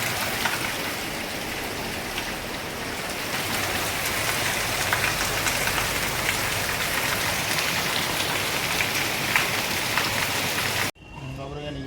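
Heavy rain pours down in a dense, continuous hiss of drops striking surfaces, loud and close throughout with no letup before it cuts off at the end.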